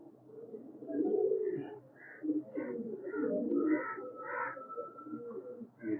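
Racing pigeons coo softly at close range in a quiet loft, a series of low rolling calls with brief higher notes layered over them, steady throughout.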